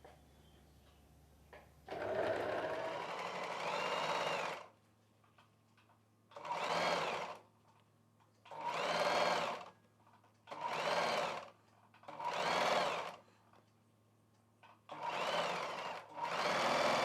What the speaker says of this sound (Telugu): ఈ హ్యాండ్ పీస్ని పెట్టుకొని కుట్టు వేసేసుకోవాలి.